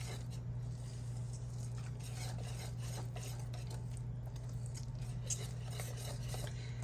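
Dry spices and flour for gluten-free gingerbread cupcake batter being mixed in a bowl, giving a steady scraping, clinking stir with a constant low hum underneath throughout.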